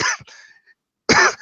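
A person coughs in two bursts, a short hacking cough followed by a pause and then a louder, harsher cough close to the mic, with no talking.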